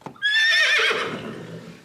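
A horse-neigh buzzer sound effect on a quiz panel show, one loud whinny that starts abruptly, rises and trails off over about two seconds, heard alone.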